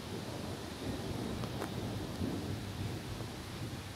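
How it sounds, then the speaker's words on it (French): An outdoor thunderstorm over Grenoble in the Alps: a continuous wash of rain and wind with a low, dull rumble of thunder underneath, steady throughout. "il y a à nouveau un orage qui se forme au-dessus de moi"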